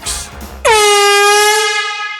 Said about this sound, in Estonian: Täpselt kui pasun käis